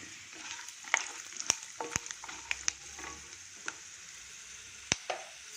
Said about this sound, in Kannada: ಎಣ್ಣೆಯಲ್ಲಿ ಫ್ರೈ ಆಗಬೇಕು ಚೆನ್ನಾಗಿ